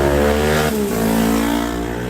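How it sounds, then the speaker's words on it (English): A loud moped passes close by, its buzzing two-stroke engine note dropping in pitch as it goes past, heard alone without talk. "Very loud moped."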